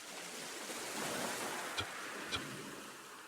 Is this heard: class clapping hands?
no